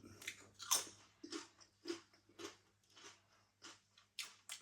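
Crisp crunching bites and chewing of Doritos Chilli Heatwave corn chips, close to the ear, repeating in an irregular rhythm with no talking.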